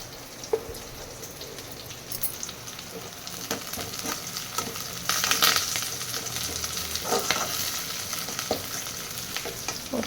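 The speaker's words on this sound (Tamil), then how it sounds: "வெங்காயம் கொஞ்சம் பொன்னிறமாக வதங்கிடுச்சு." Onions and curry leaves sizzle and crackle in a hot pan, a steady frying hiss with occasional sharper pops and stirring scrapes, close by.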